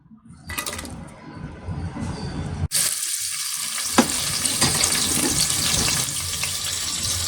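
Onions and green chillies frying in hot oil in a kadai with a piece of cinnamon, a loud steady sizzle that jumps up sharply as they drop in, with a clink partway through and no voices.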